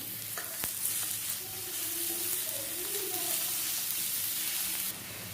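Shredded cabbage and capsicum fry in a pan for egg cabbage fried rice, giving a steady close sizzle with a few stirring scrapes and faint voice-like tones beneath, cutting off near the end.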